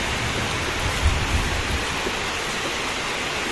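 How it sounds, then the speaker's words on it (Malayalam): Heavy rain falling in a thunderstorm, a steady dense wash of noise throughout with a few faint low thumps, no voices. "നല്ല അടിപൊളി മഴ."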